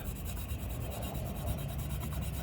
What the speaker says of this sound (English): Take a little bit of the barkeeper's friend. They're going to come in here and just scrub